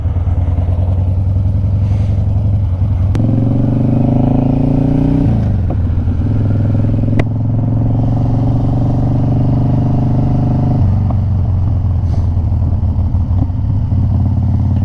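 Harley-Davidson Twin Cam Dyna Glide ridden on pavement, its V-twin engine loud and close, revving up and easing off throttle in steady swells, with small exhaust pops on deceleration after carburetor repair.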